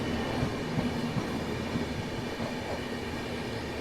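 Howrah–Mumbai Mail train running, a steady, loud rumble of rail cars rolling along the track throughout, with no voices.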